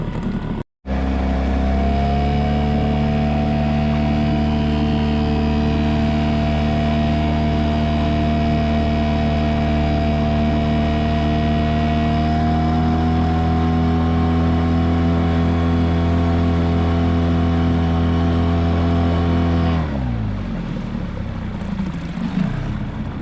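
A 1986 Mariner 5HP outboard motor drones steadily at close range, a buzzing engine hum holding pitch before shifting down near the end; no voices.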